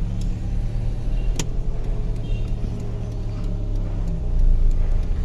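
A VW Gol with a CHT engine rumbles at a steady idle nearby, a low continuous drone with a faint click at the start and a slight swell in revs near the end.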